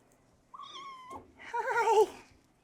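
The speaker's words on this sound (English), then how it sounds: "these are very cute kittens" A kitten lets out a thin, rising meow, then a longer, louder wavering meow follows close by, with no other sounds around.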